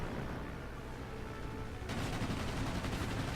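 Aircraft machine guns rattle in a dense, continuous burst during a World of Warplanes dogfight, growing louder and sharper partway through over steady engine drone.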